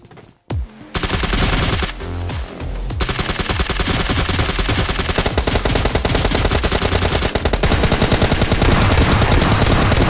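Rapid automatic gunfire in PUBG Mobile Lite rattles almost nonstop, loud and close, with dense bursts of shots layered over each other after a brief quiet start.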